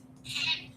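A cat gives a single short, high meow, close and fairly clear over a low steady background hum.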